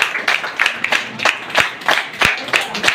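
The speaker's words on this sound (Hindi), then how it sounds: "तालियां जोरदार होनी चाहिए।" A handful of people clap in a steady, moderately loud rhythm at a morning business meeting, separate claps roughly every third of a second with light room noise behind.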